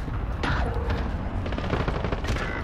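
Gunfire crackles in rapid repeated shots in a shooter video game, loud and continuous over a rumbling background.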